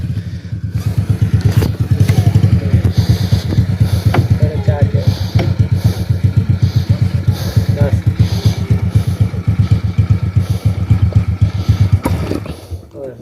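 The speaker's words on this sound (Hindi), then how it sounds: "मोटरसाइकिल तो आ गई है यहाँ पर" Motorcycle engine labouring up a slope by a river crossing, a steady close chugging putter that rises and eases, with voices talking over it.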